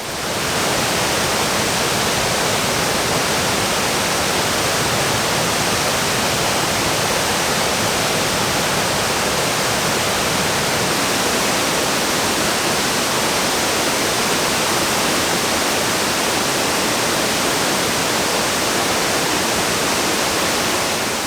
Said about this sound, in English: Beautiful waterfall. It's bigger than I thought it would be.